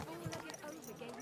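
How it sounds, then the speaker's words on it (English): Horse hooves clip-clopping in Kingdom Come Deliverance 2, a few soft thuds at a walking pace heard faintly beneath a voice speaking. "Easy, good horse."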